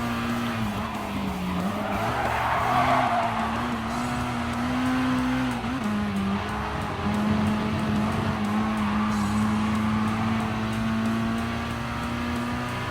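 Race cars in Gran Turismo Sport, with a sustained, loud engine whine that rises and dips through gear changes, plus scrubbing tire squeal through corners, all continuous with no talking.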